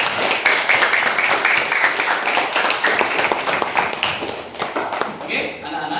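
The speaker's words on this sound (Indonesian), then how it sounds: "Kasih tepuk tangan untuk kalian semua" A classroom of new students claps for themselves, a loud, busy burst of many hands clapping close by, mixed with a few thumps and brief voices, before quieting near the end.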